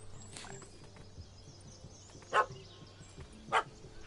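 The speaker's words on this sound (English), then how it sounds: "That gammy puss ran up a tree to escape that puppy." A dog in The Witcher 3 barks twice, two short sharp yaps roughly a second apart over quiet background ambience.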